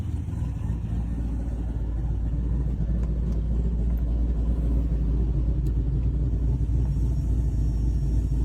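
Car engine idling through an undersized muffler on a Facebook Marketplace classic, a deep, steady low rumble holding constant with no revving, loud and alone.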